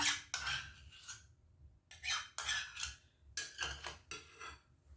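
A spoon stirs light soy sauce, hoisin and other stir-fry sauce ingredients in a small bowl, several quick scraping, clinking swirls in bursts with short pauses, close and moderately loud, no talking.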